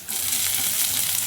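Garlic and ginger sizzle steadily in a hot pan, a dense, even frying hiss that stays close and loud throughout with no voices.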